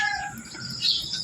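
Cockatiels chirp in short, high-pitched calls, several overlapping, close by with faint background hiss.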